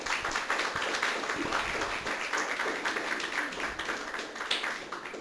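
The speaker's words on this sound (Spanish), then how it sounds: "Denle un fuerte aplauso al Señor" A church congregation claps loudly for the Lord, dense continuous applause filling several seconds at close range with no speech over it.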